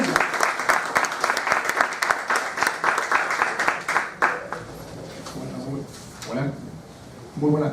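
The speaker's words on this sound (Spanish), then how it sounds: "Recibámoslo con fuertes aplausos nuevamente al doctor César Acuña." An audience at a bar association event applauds to welcome a speaker, dense clapping for about four seconds that then fades into quieter room sound with a few scattered claps.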